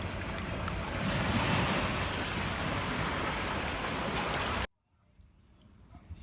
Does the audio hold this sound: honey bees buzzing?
no